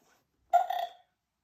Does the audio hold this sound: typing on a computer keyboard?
no